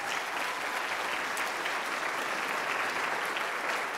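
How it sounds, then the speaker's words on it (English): Dense, steady round of applause from a university welcome audience, many hands clapping together at a constant loudness for the whole stretch, with no voices standing out. "Let's give them a round of applause."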